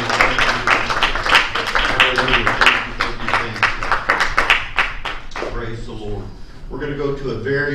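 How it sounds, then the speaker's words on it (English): A church congregation claps in praise, a burst of quick, sharp hand claps that fades out, with speech over and after it. "Let's give the Lord a big clap offering of praise for our praise"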